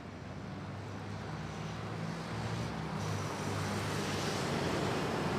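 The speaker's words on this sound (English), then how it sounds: "It's A320neo arriving from Milan" An Airbus A320neo arriving at Manila airport, heard as a steady broadband jet roar that slowly builds in loudness throughout, with no pauses and no voices.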